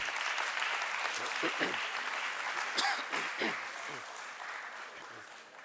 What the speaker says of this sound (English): Can we have a big round of applause for our guests for the evening?